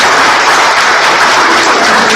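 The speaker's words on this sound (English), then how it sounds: "Round of applause for Lindsay." Loud, dense applause fills a class session on dinosaurs, a thick continuous wash of clapping from a group of around fifty people that keeps going at the same level throughout.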